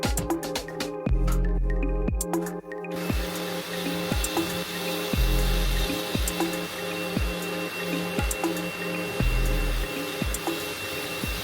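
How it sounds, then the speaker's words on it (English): Water spraying over an Ultima GTR supercar in Rothmans livery during rinsing, a steady hissing rush with periodic low thumps from a pump cycling in the background. "let's rinse it off"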